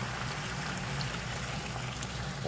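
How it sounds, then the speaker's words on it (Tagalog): Water pours steadily into a pot for a chicken curry with coconut milk, a soft continuous splashing and trickling at moderate volume, heard close by for a couple of seconds with no talk. "butangan nato og tubig"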